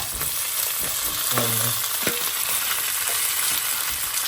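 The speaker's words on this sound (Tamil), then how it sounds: "நண்டு கூட போகிறது பார்த்தீங்களா நண்டு போட்டாச்சு" Crab sizzles and fries in a hot pan for a crab curry, a steady close hiss of oil with a few clinks and stirring knocks cutting through.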